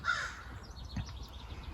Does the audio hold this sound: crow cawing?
yes